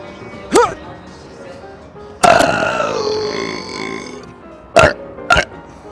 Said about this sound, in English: We're gonna bring this burping prank into Walmart.